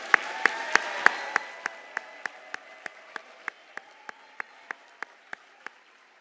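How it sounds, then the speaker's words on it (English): Applause from a graduation ceremony audience: a brief wash of clapping fades quickly, leaving a steady run of slow, evenly spaced single claps that continue at moderate volume. "let's show our grads how much we appreciate them one more time with a big round of applause."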